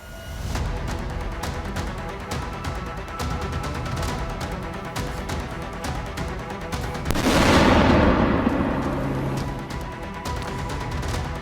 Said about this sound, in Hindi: कमांड पोस्ट के परखच्चे यहां पर उड़ा दिए गए। खार्कोव में रूसी सेना ने इस अटैक को अंजाम दिया है।